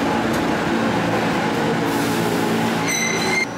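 A New York City subway train rumbles steadily, loud and close, with wheels droning on the rails and a high metallic squeal rising near the end before the noise eases slightly.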